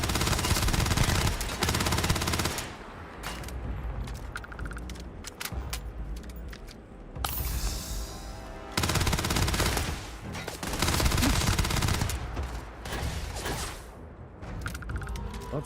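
Rapid bursts of gunfire from a weapon in the video game Starfield, loud repeated shots in clusters with brief pauses and mechanical clicks between, sounding close and dominant.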